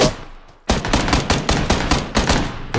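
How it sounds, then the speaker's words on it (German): Rapid bursts of PUBG gunfire, a quiet lull then about a dozen sharp, loud shots in quick uneven succession, close and punchy with no talk over them. "Schüsse."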